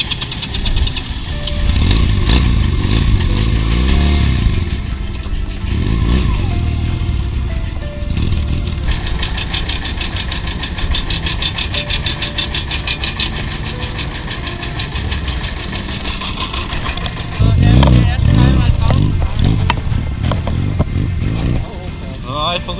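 Honda XR 150 motorcycle engine revving loudly and steadily close by as it pushes up a widened ferry ramp, surging harder near the end, with voices under the engine noise.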